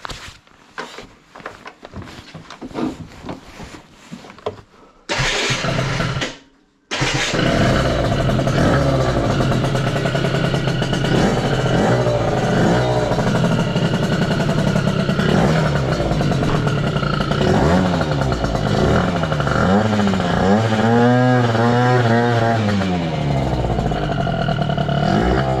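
A Yamaha Aerox scooter engine clatters and sputters on its first run, cuts out briefly, then catches and runs loudly, revving up and down repeatedly close by.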